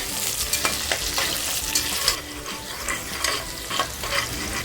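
Green chilies slit lengthwise fry in hot oil for a Kolhapuri mutton stock, giving a steady, dense sizzle broken by frequent stirring scrapes, with no talking.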